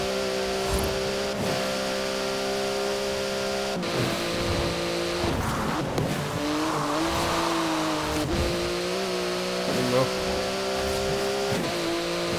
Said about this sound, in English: And this Porsche handles like a dream.